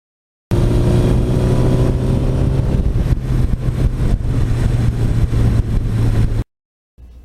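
A 1982 Suzuki GS1100E motorcycle runs with an aftermarket 86 exhaust, giving a steady, loud, close rumble that holds for about six seconds before cutting off abruptly.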